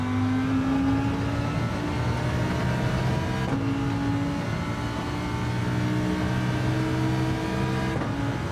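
Car engine in Gran Turismo 7 revving steadily with a sustained droning tone, brief shifts in pitch as it climbs, loud and continuous with no talking over it.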